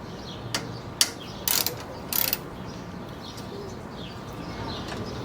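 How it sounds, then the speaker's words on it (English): Ratchet with a 10mm socket loosening the A/C receiver pipe bolt on a 10th-generation Honda Civic: a few faint clicking bursts over steady background noise, no talk. "And now to loosen the receiver pipe with a 10mm."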